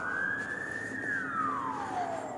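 An emergency vehicle siren wails through a traffic jam in the city of Yakutsk, one long rising and falling sweep, loud and fairly near over a steady hum of traffic, with no talking.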